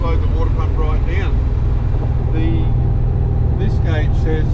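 Steady loud cabin drone of a Holden HT Monaro cruising at 80 km/h, a continuous low engine and road rumble with someone talking over it throughout.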